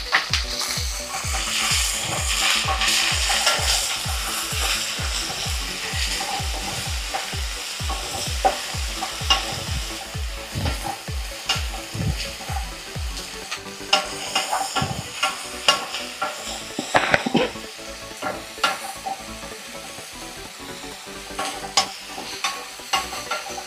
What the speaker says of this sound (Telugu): ఆనియన్స్ ఫ్రై అవుతున్నాయి.